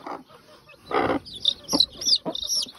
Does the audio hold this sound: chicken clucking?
yes